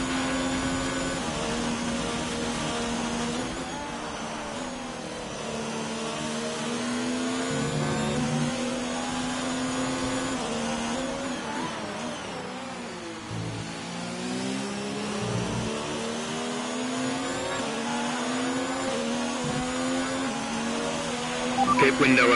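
Race car engines in an F3 UK racing game, a high revving whine rising and falling through gear changes and corners, continuous and close, with a voice talking over it.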